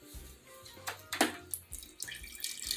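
Tap water runs into a sink, with splashing bursts and uneven gushes over a low background hum, close by and fairly quiet, with no talking.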